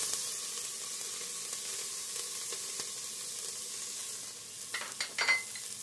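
Red Fresno chilies and ginger sautéing in a pan for khao soi give a steady soft sizzle, with a few stirring scrapes toward the end and no talk.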